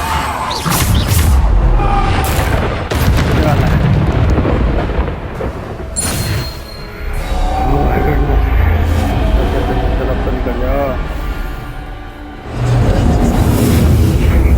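Bombarda blast spells in the wizarding game Hogwarts Legacy, a series of heavy booming explosions rolling over one another, loud and close, with brief lulls between bursts and a voice speaking throughout.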